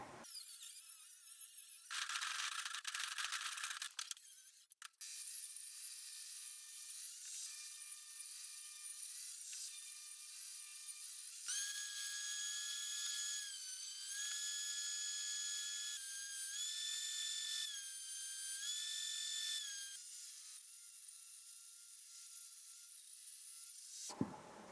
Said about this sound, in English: I'm done ripping and planing the boards